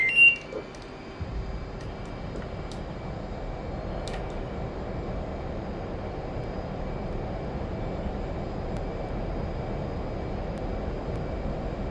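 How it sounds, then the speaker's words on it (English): Jet fighter at full afterburner during takeoff in the DCS World flight simulator, a steady broadband engine roar that holds loud and constant after a brief quieter start, with faint cockpit beeps. "Use afterburner to take off."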